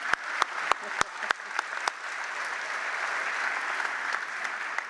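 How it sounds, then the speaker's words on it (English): A crowd at a high school graduation ceremony applauds the speakers with steady, dense clapping, a few sharp claps standing out near the start, sustained at an even level throughout. "I think my fellow speakers deserve another round of applause for such great speeches"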